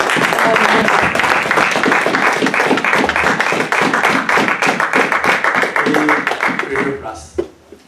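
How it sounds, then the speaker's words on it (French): Church congregation claps and cheers in praise, a dense, loud burst of applause with rhythmic clapping and voices that fades out near the end. "Une main d'acclamation pour notre Dieu"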